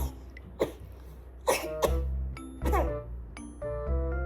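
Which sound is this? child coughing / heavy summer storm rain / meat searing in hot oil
child coughing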